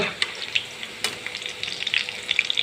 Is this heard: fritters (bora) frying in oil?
yes